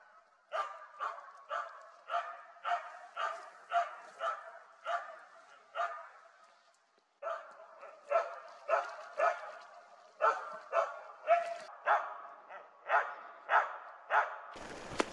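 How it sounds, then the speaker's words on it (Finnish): Finnish Spitz barking in the wilderness, a long run of sharp, evenly spaced barks about twice per second, loud and near, pausing once briefly before resuming at the same steady pace. "Kun sen haukku kiirii erämaassa"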